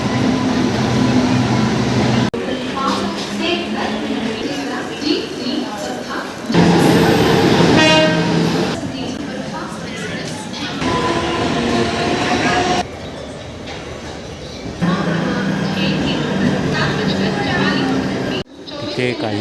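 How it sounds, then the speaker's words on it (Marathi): A local train rolls through Thane station, its loud rumble and clatter going on with several shifts in level and a brief horn note partway through, while people talk over it. "छत्रपती शिवाजी महाराज टर्मिनसला जाणारी जलद लोकल आहे"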